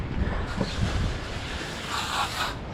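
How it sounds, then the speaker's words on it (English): Strong wind buffets outdoors at a school construction site during a concrete pour, a steady loud roaring rush with gusty swells and microphone rumble throughout, no voices. "It's really windy today, guys"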